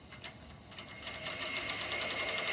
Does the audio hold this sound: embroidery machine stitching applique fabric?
yes